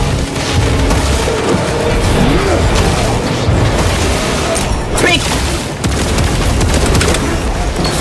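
Grenade blast in Warhammer 40K: Space Marine 2, a loud booming explosion amid a constant wall of dense game combat noise and gunfire, with voices chatting over it.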